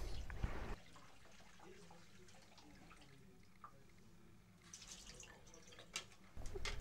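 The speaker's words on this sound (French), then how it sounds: "La praticienne verse de l'eau sur ses doigts afin de s'assurer qu'elle est assez chaude" Warm tap water, run to about 40 degrees, trickles and drips from a faucet in a quiet room, with splashier pouring at the start and toward the end.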